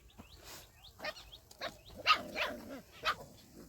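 A dog barks in short, separate bursts, a handful of yaps and woofs at moderate distance with quiet pauses between them.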